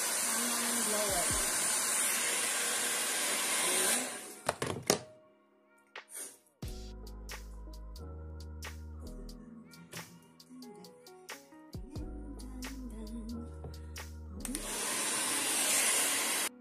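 A hair dryer blows on hair at home, a loud steady rush at the start that cuts off, then quieter clicks and tones, before the blower roars again at the end.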